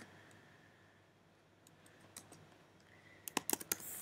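Keys on a computer keyboard are typed as an SQL query is entered, with faint scattered taps first, then a quick close burst of clicks near the end.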